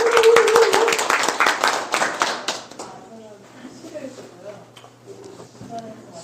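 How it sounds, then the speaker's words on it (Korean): Audience in Suncheon gives a short round of welcoming applause, dense clapping for nearly three seconds that then stops, followed by quieter talking. "순천 오셨는데 박수로 환영해 주십시오"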